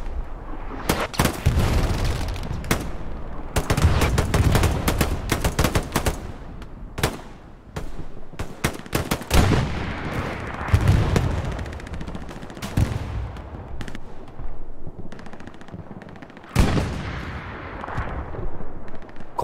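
Dense bursts of automatic and single gunfire crackle throughout a Halo multiplayer match between CoRe and WTH, sharp repeated reports with booming impacts, steady and loud with no talk.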